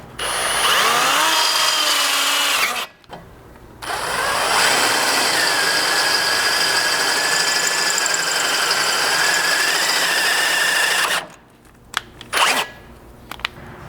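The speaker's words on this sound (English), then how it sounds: "You'll need to center punch and then drill using this bracket as a guide to 5/16" A power drill with a 5/16 bit bores holes through a skid bracket on a 3rd Gen 4Runner, giving a steady whining grind that runs for several seconds, pauses briefly, then continues at length before stopping with a few clanks.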